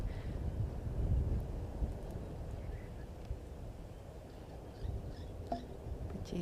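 Strong wind buffets the microphone outdoors in a nature reserve at Djuma, a steady low roar with gusts and no talking.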